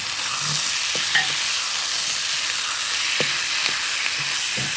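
Shrimp stir fry in a pan with mango and cilantro being stirred in off the heat, giving a steady soft sizzle with scattered scrapes and clacks of the utensil against the pan, close and alone.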